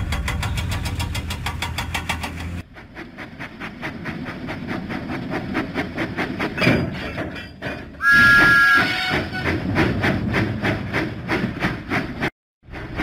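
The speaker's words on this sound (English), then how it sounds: "Huffing and puffing, Thomas set out for Farmer McCall's farm." Thomas the Tank Engine chuffing in a children's video game, a steady rhythmic huffing and puffing of steam with mechanical clanks, loud and close, with a brief whistle-like tone partway through.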